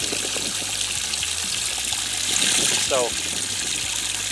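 Water trickles and gushes steadily into a boat's livewell, a continuous wash over a low pump hum, with a brief voice near the start.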